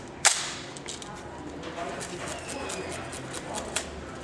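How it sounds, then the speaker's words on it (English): An airsoft Classic Army Skirmish rifle fires outdoors at clay targets. One sharp, loud crack comes near the start, a fainter pop follows later, and steady background noise runs throughout. "Let's do some shooting."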